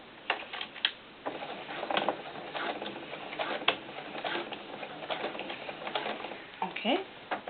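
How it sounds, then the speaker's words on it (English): A sewing machine stitches a regular quarter-inch seam on a floral doll skirt, giving a steady, fairly quiet run of rapid mechanical ticking with small bursts and pauses throughout. "I'm just going to sew my regular seam"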